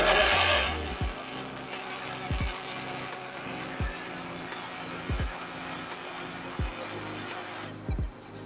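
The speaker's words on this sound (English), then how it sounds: "We're going into an active weld, so watch your eyes." ATEC welding equipment running an active weld: steady broadband hiss and crackle with a deep mechanical thump about every second and a half, loud and close, no voices.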